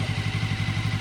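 Motorcycle engine chugging at low speed with the clutch slipped during slalom training, a steady close-up pulsing putter with no speech.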